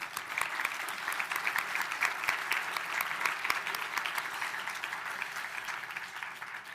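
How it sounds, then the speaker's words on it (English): A conference audience at a solar design competition livestream applauds steadily, a dense wash of many hands clapping at moderate distance with no voices over it, holding level for several seconds. "let's give them a round of applause for being here"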